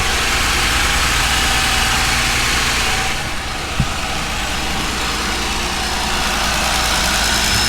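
A 2020 Jeep Gladiator with the 3.6 engine idles close by, a steady, even rumble with a brief dip partway through and no talking.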